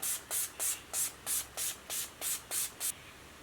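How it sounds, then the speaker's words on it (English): Urban Decay All Nighter setting spray misted onto a face in about ten quick, even pump bursts, each a short bright hiss, close and clear with nothing else heard. "I'm just going to spritz my face with this."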